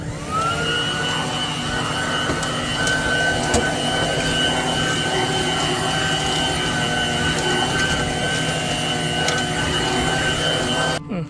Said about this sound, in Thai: โอเคครับขอตัวดูดฝุ่นแป๊บหนึ่ง